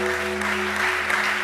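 Applause from a small audience at a French-language talk show, a steady patter of clapping lasting the whole short moment, fairly close, with faint voices and a steady electrical hum underneath.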